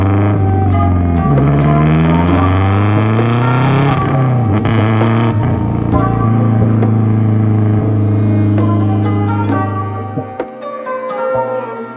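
Engine of a 2004 Subaru WRX STI revving up and dropping back through repeated shifts and downshifts, a loud close rumble with rising and falling pitch sweeps before easing off near the end.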